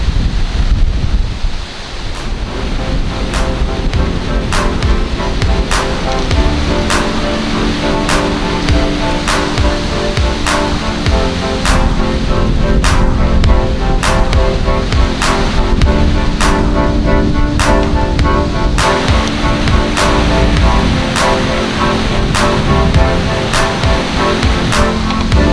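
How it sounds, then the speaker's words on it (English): Strong wind, around 20 mph, buffets the microphone outdoors in deer hunting country, a loud continuous roaring rush with steady gusts and faint ticking throughout. "It's super windy. It's probably like a 20-mile-an-hour wind"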